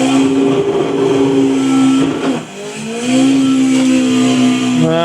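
Car engine in a racing simulator game, revving steadily at high pitch through a drift with a brief dip and rise in revs, loud and continuous with no talking.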